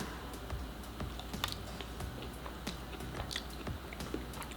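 Food dipped in a sauce being eaten, with close, repeated crunchy bites and chewing over a steady background hum.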